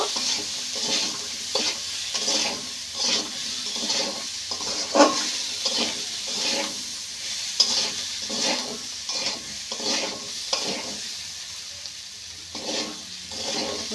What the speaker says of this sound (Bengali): ছোলা দিয়ে দেব আলুর সাথে ছোলাটাও বেশ ভালো করে কষে নেব